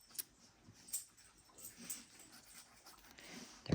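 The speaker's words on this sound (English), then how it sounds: "the dogs are having a party in the bedroom" Dogs playing in a bedroom, faint whimpers and soft yips scattered over a few seconds with light scuffling, distant and quiet, ending with a louder bump.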